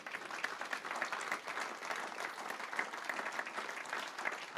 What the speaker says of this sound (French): On peut les applaudir évidemment tous les 5.